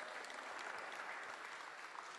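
A crowd applauds steadily and alone at an IMOCA sailing trophy presentation, the clapping dense and faint as though heard from across the room.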